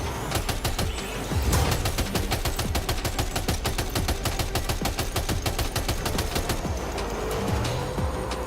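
Rapid automatic gunfire in Death Stranding 2, a loud, steady stream of closely spaced shots lasting several seconds, alone without talk.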